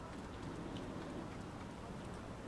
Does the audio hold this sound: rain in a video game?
yes